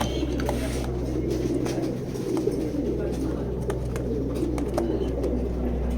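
Pigeons coo steadily at a racing pigeon loft where male birds are kept, with a continuous low hum and busy background noise, while someone talks throughout.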